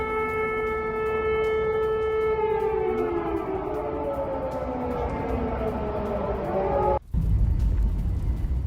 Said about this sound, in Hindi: पूरे यूक्रेन में आप देखिए हमले का एयर रेड अलर्ट सायरन बज रहा है।